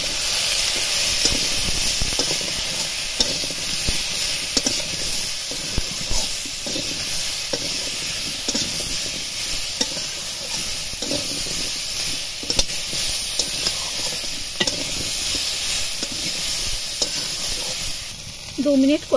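Ground spices and turmeric sizzle steadily in hot oil while being stirred in a pan for a fish curry with drumsticks and potatoes, a continuous close frying hiss with occasional scraping.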